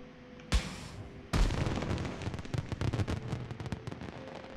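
Noise countermeasures launched in Star Citizen: a sharp burst, then a louder blast that breaks into a dense, crackling, fizzing spray of pops and slowly thins out.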